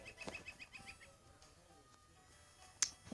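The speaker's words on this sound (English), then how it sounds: "Some sort of bird is nearby." Bird calls in the WolfQuest video game, a faint series of quick repeated chirps followed by one sharper, louder call, heard in an otherwise quiet outdoor setting.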